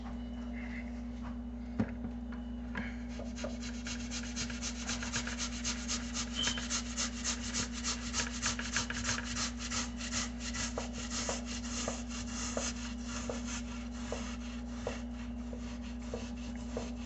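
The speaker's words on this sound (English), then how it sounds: "Get loosening those potatoes from the inside of the grater." Potatoes rubbed against a grater while making a potato BBQ chicken pizza, a steady rasping scrape with repeated short strokes over a constant low hum, fairly quiet and continuous.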